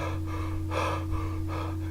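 A voice imitates the heavy, rhythmic breathing of the masked killer Michael Myers from the 1978 Halloween film: several slow, close, raspy breaths in and out, with no words spoken.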